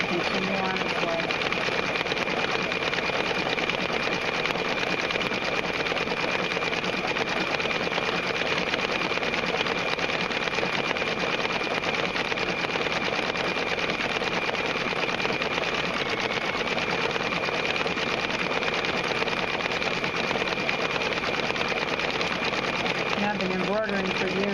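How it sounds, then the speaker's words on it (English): A Brother Quattro II embroidery machine stitches steadily, with a continuous rapid mechanical chatter and hum that runs unbroken throughout, loud and close, with a voice talking faintly under it. "This is my third embroidery machine."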